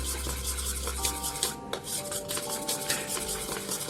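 Coloured idli batter mixed in a bowl with a spoon, producing soft repeated scraping and clinking of utensil against the bowl at a close, moderate level, with no voices.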